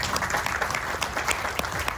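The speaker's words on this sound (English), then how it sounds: "give the committee a big round of applause, please" An outdoor Ramayana festival audience in a park breaks into dense, sustained applause, full and close, with no talking over it.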